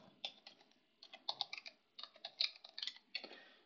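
Quick bursts of keystrokes on a computer keyboard during router configuration for an extended IPv4 ACL lab, the clicks coming in uneven clusters with brief pauses, close and clear with no talking.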